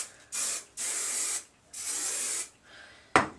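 Hairspray from an aerosol can misted over curled hair, three long hissing sprays with short pauses between, close and loud, ending in a brief sharp click.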